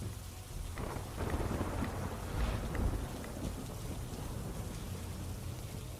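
Rain pours in Vadiya with rolling thunder, a dense steady hiss of falling drops over low rumbles that swell briefly near the middle, heard alone without voices.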